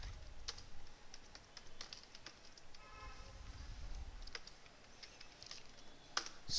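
Typing on a computer keyboard while writing C code, soft, fast, irregular key clicks close to the mic over a low background hum, with a slightly louder tap near the end.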